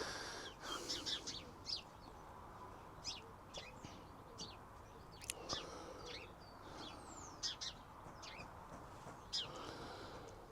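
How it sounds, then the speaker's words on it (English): Birds chirp and sing outdoors near a greenhouse in quick, scattered bursts, fairly faint, over a steady background hiss with no talking. "You can hear the birds now actually."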